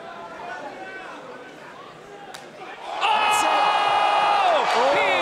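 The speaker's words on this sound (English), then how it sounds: "And the crowd goes crazy." An arena crowd at a Power Slap 8 middleweight slap fight bursts into wild cheering and whooping, a sudden loud roar of many voices that jumps up midway after quieter commentary-like murmur.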